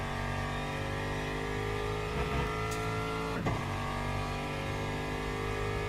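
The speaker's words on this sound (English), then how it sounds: "I think it's probably the pitch of the engine that makes it sound slow." A GT3 racer's engine from Le Mans Ultimate hums loudly and continuously, holding a steady mid-pitched drone with brief gear-change dips around the middle.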